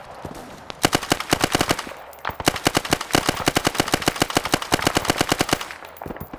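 Rapid bursts of machine gun fire ring out in a Vietnam-era special operations combat game, where tracer rounds run through the MP40 magazines. Two long, dense strings of loud, close shots are split by a brief pause.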